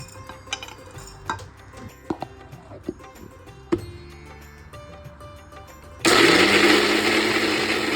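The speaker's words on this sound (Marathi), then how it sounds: "हे सगळं आपण मिक्सरमध्ये वाटून घेऊया।" A mixer grinder starts up with a loud, steady whirring roar, grinding green chillies, garlic, cumin, ajwain, fennel and coriander seeds, after several clicks and knocks as the jar is set in place.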